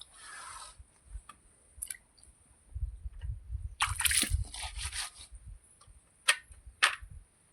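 Grandfather's clothes being washed by hand in a tub of water, with intermittent splashes, sloshing and wet slaps coming in bursts, loudest in the middle and with a few sharp splashes near the end.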